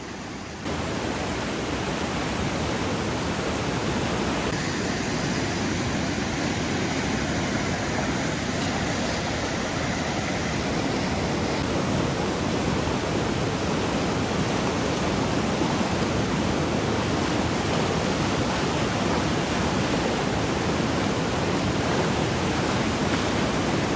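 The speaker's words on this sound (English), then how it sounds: "Fast, muddy water." A flooded Arizona creek rushes with fast, muddy water, a loud, steady broadband roar that holds unbroken throughout, close by and with no voices over it.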